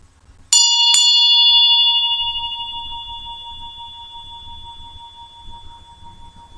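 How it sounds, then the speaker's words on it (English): A meditation bell struck twice in quick succession, then a long clear ringing tone that slowly fades while resonating in a quiet room with faint low background rumble. "as the bell rings and resonates"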